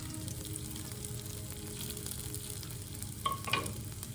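Steady sizzle of guanciale frying in a pan for carbonara, a constant crackling hiss close by with a couple of brighter clinks toward the end.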